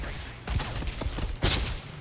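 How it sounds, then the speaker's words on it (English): Gunfire from the companion Ryujin in Starfield, a few sharp shots and short bursts cracking out over a quieter game background, with a loud final volley near the end. "Why are you shooting at me, Ryujin?"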